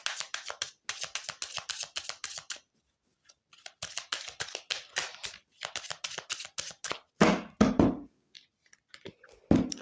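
Tarot cards being shuffled by hand in quick riffling bursts of crisp, close flicks, broken by short pauses and a louder rustle near the end, with no talking over them.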